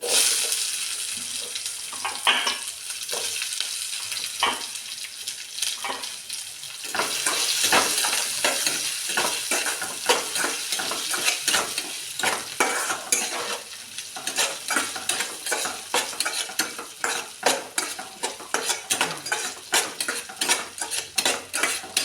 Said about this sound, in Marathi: छान असं गोल्डन होईपर्यंत परतून घ्यायचं कांद्याला